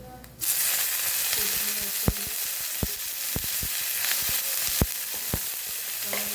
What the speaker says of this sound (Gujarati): ડુંગળી ચોપિંગ કરી ડુંગળી અને મરચું લીલું મરચું એડ કરીશું.